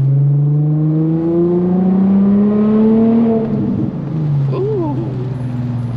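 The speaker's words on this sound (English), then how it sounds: "that's my favorite part of this car is the pops, especially when you let off the gas and it just be pop, pop, pop, pop." Infiniti G35 exhaust revving in the rain, a loud steady drone that rises and falls, then a dip as the throttle lifts around the four-second mark, with faint crackle behind a nearby voice.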